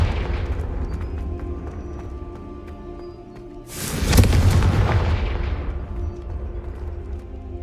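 A Confringo spell explodes in Hogwarts Legacy: a sudden heavy blast bursts out midway over a steady low game rumble, then fades slowly as a long booming tail.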